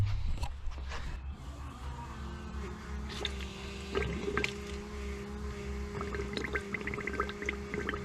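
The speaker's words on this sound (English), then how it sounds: "it's just going to flow fuel down here into my little overflow bucket" Fuel trickles and drips into a small overflow bucket from the fuel system of a Merkur XR4Ti during an engine swap, a faint steady liquid flow with light splashes and no talk.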